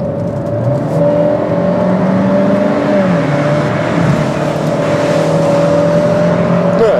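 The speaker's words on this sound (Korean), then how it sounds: "가속 페달을 밟았을 때 차가 밀고 나가는 느낌" A SsangYong Tivoli 1.6 or Chevrolet Trax 1.4 turbo accelerates hard in manual mode, its engine droning loudly and steadily with a rising tonal whine from the cabin and no speech.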